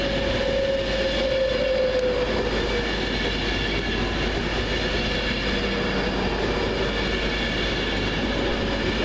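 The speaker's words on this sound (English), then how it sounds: "39138 arrives with the 11:49 Avanti West Coast service from London Euston to Blackpool North via" Avanti West Coast train 39138 rolls into Watford Junction station, a steady loud rumble of wheels and carriages with clickety-clack rhythm and a faint squeal, no voices.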